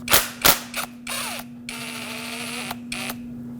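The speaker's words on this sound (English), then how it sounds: "remove the banjo bolt off of the old caliper" A 15mm socket ratchet loosens the banjo bolt on an old rear brake caliper of a 2009-2010 Dodge Ram 1500, giving a few sharp clicks followed by a longer stretch of rapid metallic ratcheting, close and fairly loud.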